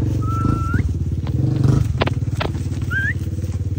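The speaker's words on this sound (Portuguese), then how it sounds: "Hoje em dia, Toninho mete a moto no meio do pasto e apasta o bezerro." A motorcycle engine putters steadily with a rhythmic low throb in an open cattle pasture among calves, close and moderately loud, with a few short whistle-like tones over it.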